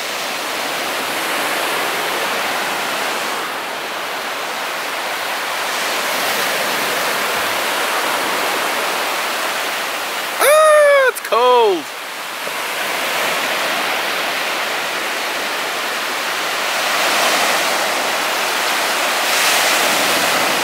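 Ocean surf rolls onto a Costa Rican resort beach as a steady, loud, broad rushing roar that swells and eases. A brief high squeaky whistle cuts through midway.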